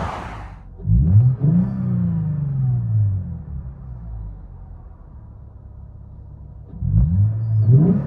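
A 2013 Lexus GS 350 with its 3.5L V6 and LCGP resonators, heard from inside the cabin: two rising revs, one longer sweep early and a shorter one near the end, over a steady low engine drone.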